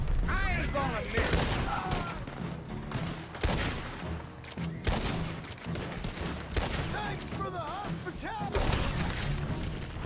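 Rapid gunfire in the Red Dead Redemption 2 video game, with dense bursts of repeated shots and booms and loud, continuous, overlapping blasts throughout, plus brief game voices and mechanical noise mixed in.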